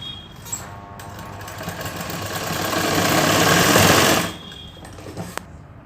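A sewing machine runs a seam through canvas on a bridal lehenga, starting slowly and building to a fast, loud mechanical whir before stopping abruptly, with a few clicks around it.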